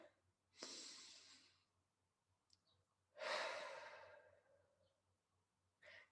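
Slow, deep breathing during a guided meditation: two long airy breaths, each swelling and then fading, with a third breath starting at the end, close and soft in a quiet setting.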